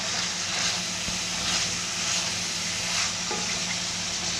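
Ground beef for loose meat sandwiches frying in a hot pan, a constant close sizzling hiss with soft crackles and faint stirring, steady throughout with no speech.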